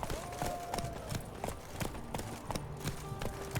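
Hooves of a horse galloping in The Witcher 3 game, a steady run of sharp thuds with a faint tone droning underneath.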